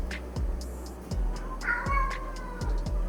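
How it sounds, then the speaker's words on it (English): A pet cat meows several times in a home kitchen while tacos are being prepared, with short, fairly clear calls in an uneven rhythm and no talk over them. "That's my cat, sorry about him."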